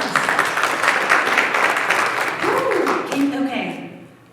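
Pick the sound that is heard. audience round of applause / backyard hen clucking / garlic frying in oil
audience round of applause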